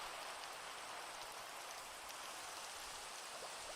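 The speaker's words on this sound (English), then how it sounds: "Or we could just do /weather rain." Steady Minecraft rain hisses evenly throughout, a constant soft wash of falling drops with no other sounds.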